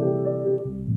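Synth piano melody transposed down in Ableton, with portamento bending the pitch smoothly between notes; a brief, moderately loud sustained tone that glides lower near the end, alone without speech.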